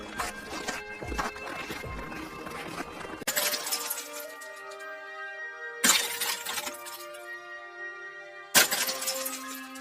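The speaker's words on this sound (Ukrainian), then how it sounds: "бурулька все впала." Several sharp crashes of an icicle falling and shattering, with glassy ringing tails that linger, each break loud and close and separated by a few seconds, heard alone without talk.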